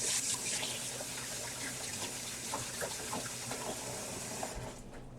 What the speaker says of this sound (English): I am washing my hand, or rinsing my hand off,